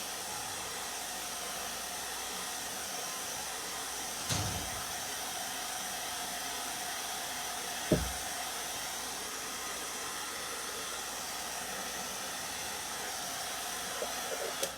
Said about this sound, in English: I'm gonna take the blow dryer and I'm just gonna blow dry this shading